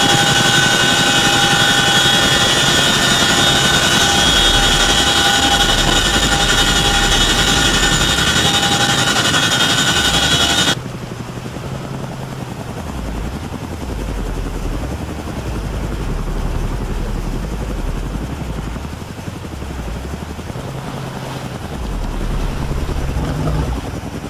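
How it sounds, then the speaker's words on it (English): A Chinook helicopter in the VBS2 military simulation game gives a loud, steady rotor and engine drone, which abruptly drops to a lower, rougher rumble about halfway through. "connecting with a Chinook helicopter, whether in real life or in VBS2 in simulation"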